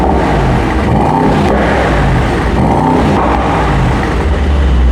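A Mercedes-AMG GT 63 Pro engine in Race mode, its loud, deep exhaust note droning steadily throughout with slight rises and falls in revs, close by and uninterrupted by any talk.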